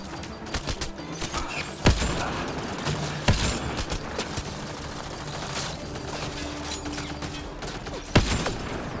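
Gunfire in the sci-fi shooter Mass Effect Andromeda during a firefight on frozen Voeld, with rapid bursts of shots, a few heavy booming blasts standing out, and mechanical clatter throughout.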